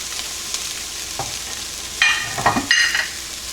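Bok choy stir-frying with chicken and shrimp, a soft steady sizzle that flares into loud crackling bursts as the greens hit the hot pan, heard close, with no talk.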